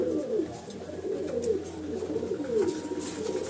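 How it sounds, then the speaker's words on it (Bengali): Beader pigeons coo repeatedly nearby, low warbling calls rising and falling in overlapping waves, with no talking. "এই যে দেখুন বিডার পায়রা"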